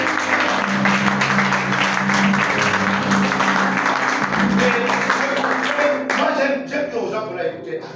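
A church congregation breaks into loud, sustained applause and cheering that fills the room, with voices mixed into the clapping, then thins out toward the end.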